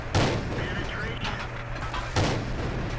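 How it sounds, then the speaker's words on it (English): Artillery shells from World of Tanks slam in with two heavy booming blasts, one early and one near the end, over a steady low engine rumble with scattered crackle between them. "Now it's got Artie shooting at us."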